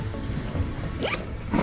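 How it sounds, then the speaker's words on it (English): A zipper closing a kite bag, two quick zipping strokes in close succession, near and clear over faint background noise. "Zip it up and you're good to go."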